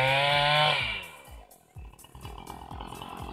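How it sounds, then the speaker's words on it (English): A chainsaw clears trees, first revving at a high whine and then dropping to a lower chugging idle with rhythmic pulses, close and loud throughout. "Get used to the chainsaw."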